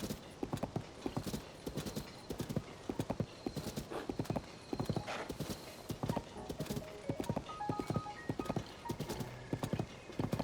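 Steady clip-clop of horse hooves trotting at a brisk, even rhythm in The Legend of Zelda: Tears of the Kingdom, fairly close, with a brief whinny and faint ambient game sounds behind.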